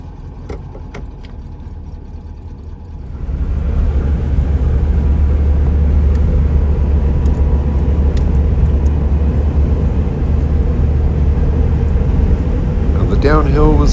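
A vintage Volkswagen engine catches after a few quiet seconds, then runs on with a steady, loud, low rumble that fills the rest of the stretch, with brief voices near the start and a whistly hiss near the end.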